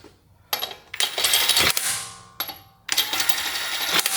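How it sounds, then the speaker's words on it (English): An impact wrench with a 21mm socket running lug nuts down on a 2010-2024 Toyota 4Runner front wheel, several loud rattling bursts separated by short pauses, close and clear. "we can take our 21mm socket, I have it on an impact implement, and just run them down carefully."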